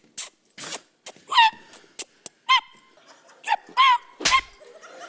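A dog barks in a string of short, sharp, separate yelps, loud and close, with pauses of silence between them.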